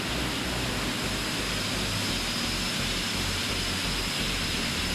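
Eclipse 550 business jet engine noise in the X-Plane 11 flight simulator, a loud, steady broadband roar and hiss that stays constant with no pauses or talk.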